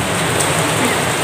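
Steady, dense rain falls nearby in a constant hiss that fills the whole moment, loud and unbroken, with no other clear sound standing out.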